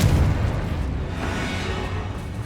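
A Confringo blasting spell explodes in Hogwarts Legacy, a loud deep boom that decays into a dense, rumbling roar lasting a couple of seconds.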